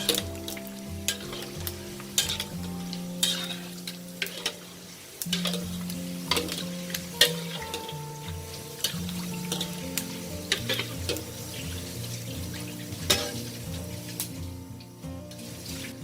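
Pork cracklings with fat attached fry in oil in batches, producing a dense crackling sizzle with frequent pops and a low tonal hum underneath, steady and close, with no talking.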